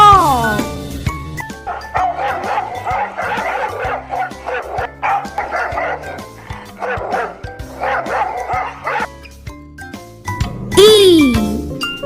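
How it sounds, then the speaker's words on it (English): A dog barking in repeated yipping bursts over a jingly children's tune, with a voice speaking and a sliding whimpering cry near the end. "D for dog."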